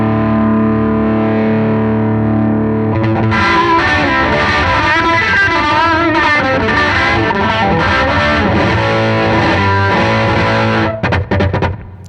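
An electric guitar plays through a Belle Epoch Deluxe tape delay with the record level turned way up, giving saturated overdrive grit. A sustained chord gives way to loud, dense strummed passages with repeating echoes before it stops abruptly.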